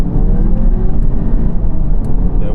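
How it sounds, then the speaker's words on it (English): Car accelerating hard from 30 mph with the speed limiter switched off, a loud, steady engine roar and road rumble held throughout without a break. "I'm going to put the power down and see what the car can actually do in its normal state"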